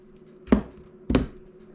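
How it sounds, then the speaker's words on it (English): Two crisp knife chops through an onion on a cutting board, evenly spaced about half a second apart, close and fairly loud against a quiet kitchen background. "how I cut my onion"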